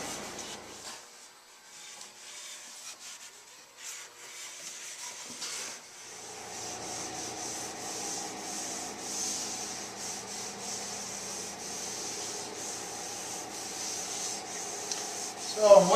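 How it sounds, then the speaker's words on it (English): Wet sanding of a wooden dining table with 400-grit sandpaper and water, a soft, steady rhythmic rubbing of strokes that is faint at first and then continues more evenly, with no talking. "So I'm wet sanding this, just starting off with 400 grit sandpaper here and some water"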